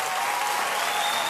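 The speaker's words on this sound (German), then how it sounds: "Großer Applaus für Tom Blaschia" A studio audience at a German late-night TV show applauds a guest with a steady, full burst of clapping from a crowd.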